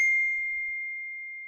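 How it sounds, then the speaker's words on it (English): A single bright phone notification chime rings once and rings out cleanly into silence, close and alone. "it started with a notification"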